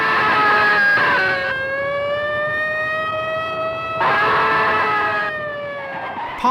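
A loud ambulance siren wails on its own, its tone rising and falling in long sweeping cycles as if from a vehicle nearby.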